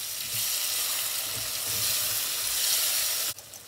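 Tomatoes hit a hot pan for a village-style fish gravy and fry with a bright, continuous hiss and a few soft stirring thumps, the sizzle dropping away abruptly near the end; no talking.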